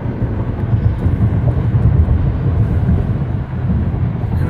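A car engine held in drive, revving as the gas is applied, a steady low droning rumble that rises slightly and holds near the microphone, with no talk over it.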